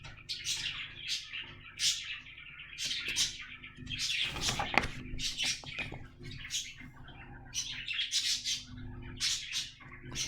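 Birds nesting high in trees give repeated bright chirps and squawks in short bursts, with calls layered over one another against a soft low background.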